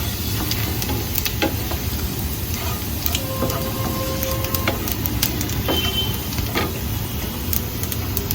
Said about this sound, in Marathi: आता हे सगळं छानपैकी फ्राय व्हायला ठेवलंय आपण इथे।